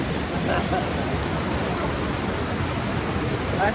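River water splashing over rocks near an island, a continuous close rushing and churning that stays loud and even, with faint voices in the background.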